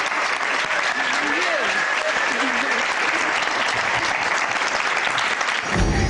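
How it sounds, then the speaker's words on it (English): A studio audience gives a huge round of applause for Diana, dense steady clapping filling the room for several seconds before it cuts off abruptly. "One huge round of applause for Diana, please."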